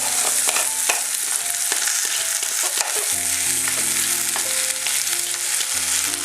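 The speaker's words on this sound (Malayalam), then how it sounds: "ഇത് എണ്ണയിൽ കിടന്ന് നന്നായിട്ടൊന്ന് മൂത്ത് വരണം" Boiled koorka (Chinese potato) frying in oil, a steady close sizzle with occasional stirring scrapes, while tonal music plays throughout.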